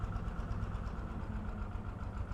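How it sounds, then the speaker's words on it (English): A sewage treatment tank's aeration unit runs with a steady low mechanical hum and rumble, constant and moderately quiet, with no voices. "So I'm going to go onto the manual operation and turn aeration on."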